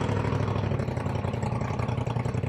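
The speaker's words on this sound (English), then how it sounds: "you got these noisy John boats here with those air-cooled engines and like an egg beater prop on the end" A noisy air-cooled outboard engine on a john boat with an egg-beater style prop, droning steadily and loudly at a constant pitch, close by on Caddo Lake.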